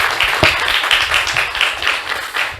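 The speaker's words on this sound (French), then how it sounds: "J'aimerais bien qu'on l'applaudisse." An audience applauds at a social entrepreneurship masterclass in Fianarantsoa, with a dense, close burst of steady clapping that fills the whole moment with no voices.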